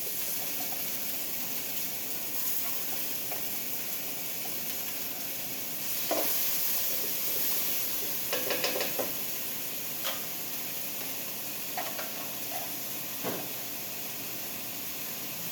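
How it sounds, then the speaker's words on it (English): Onions and peppers sizzle steadily in about a teaspoon of hot oil, a continuous close hiss with scattered clicks and stirring scrapes throughout, no talking. "So I've heated approximately a teaspoon of oil, and I'm going to add our onions and our peppers."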